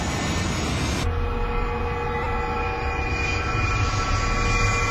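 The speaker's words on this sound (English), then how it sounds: "another plane is crashing." A jet airliner roars low over lower Manhattan on September 11, 2001, just before striking the World Trade Center; a loud, steady, close rumble fills the whole stretch with no voices.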